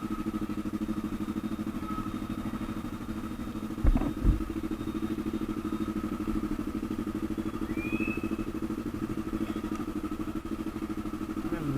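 Motorcycle engines rumble in a steady, continuous drone on a crowded street in Quiapo, Manila, during the Black Nazarene fiesta. A brief clatter cuts through partway, with no talking.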